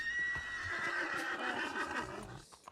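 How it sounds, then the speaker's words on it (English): A horse in a Red Dead roleplay game lets out a loud, drawn-out whinny close by, a single wavering neigh that fades at the end. "Your horse seems a bit unruly."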